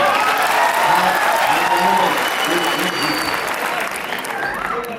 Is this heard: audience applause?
yes